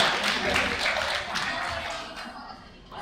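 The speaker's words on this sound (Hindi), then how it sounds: "एक बारी जोरदार तालियों से अभिनंदन कर दीजिए आशीष जी और शिवानी जी का" Applause from a seated audience at a franchise expo event in a New Delhi hotel ballroom, a steady wash of clapping that fades out over three seconds.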